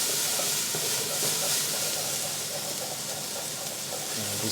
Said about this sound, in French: Alors on va faire revenir légèrement, je vais rajouter un tout petit peu d'huile.